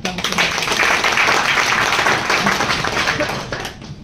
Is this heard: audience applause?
yes